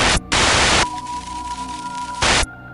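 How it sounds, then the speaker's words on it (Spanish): Loud bursts of radio static hiss on and off, with a quieter stretch of crackle and a steady tone between them; no talking. "Hubo un momento de estática"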